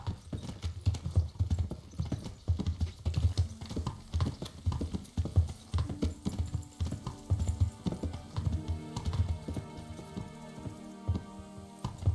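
A horse in the medieval game Kingdom Come: Deliverance clip-clops along at a steady walking rhythm, hoof strikes close and distinct, joined later by other game sounds, with no voices.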